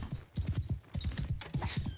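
Army horses ride in Mount & Blade II: Bannerlord, their hooves thudding in quick, rhythmic galloping bursts, dense and fairly close, with faint battle ambience behind.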